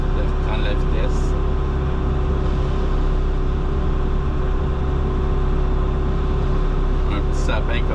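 An Osma brush mulcher on a tractor spins up its hydraulics while clearing hardwood from a roadside ditch, giving a steady, loud mechanical drone with a constant hum throughout.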